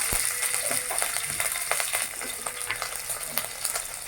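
Spices and ginger-garlic paste frying in a hot pan, giving a dense crackling sizzle with scattered pops and stirring scrapes throughout, close and fairly loud, with no voices.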